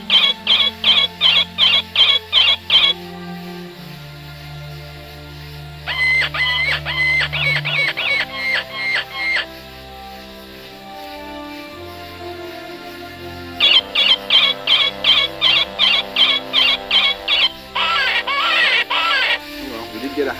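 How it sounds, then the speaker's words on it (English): An electronic predator call plays a recording of distressed rabbit squeals outdoors at night during a chupacabra hunt, giving repeated bursts of high, rapid cries in three long sequences with pauses between, loud and close over low background hum. "For some reason, the sound of distressed rabbits is the most popular."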